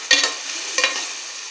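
Carrots and potatoes with spices frying in a pan for a vegetable pulao give a steady close sizzle, with two short louder stirring scrapes near the start and middle.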